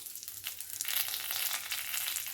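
Mustard, fenugreek, coriander and cumin seeds fry in hot oil for a garlic chutney, giving a steady close sizzle that swells louder partway through and holds with fine crackling, no voices.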